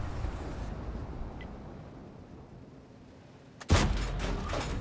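A single loud gunshot blast from a video game cracks out suddenly near the end, following several seconds of low rumbling ambience, and decays into a lingering roar.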